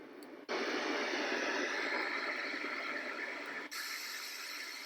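A sound machine switches on to steady white noise, a flat, even hiss that stays at constant loudness for several seconds, with a brief dip as it changes setting near the end.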